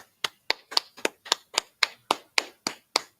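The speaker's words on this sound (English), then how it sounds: "Let's clap it up." Eleven slow, evenly spaced hand claps at a Sunday scripture class, sharp and close, each ringing briefly before the next, with no other sound between.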